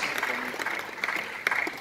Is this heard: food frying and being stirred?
no